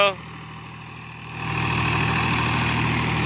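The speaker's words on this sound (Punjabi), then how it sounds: "ਟਰੈਕਟਰ ਜਾਂਦਾ 4x4 855" A Swaraj 855 4x4 tractor's diesel engine runs with a steady low drone, stepping up to a louder, fuller hum partway through and holding there, close by.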